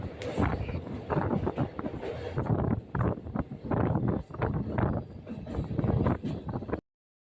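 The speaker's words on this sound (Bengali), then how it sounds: "আমাদের ট্রেন এখন হুগলি নদী পার হয়ে গেল" A passenger train runs onward just after crossing the Hooghly river between Bandel and Naihati, a rough, rumbling rattle with gusty wind noise buffeting the microphone throughout.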